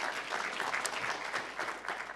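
Crowd applause at a media forum during a world money fair, a short, moderately faint patter of clapping from a seated audience, heard alone without speech.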